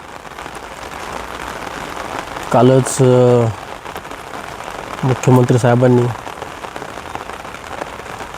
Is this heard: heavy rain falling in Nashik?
yes